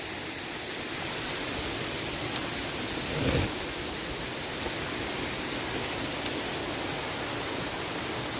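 Steady broadband roar of Kattar waterfall in a forest, continuous rushing water at even loudness throughout, with a brief low thump midway.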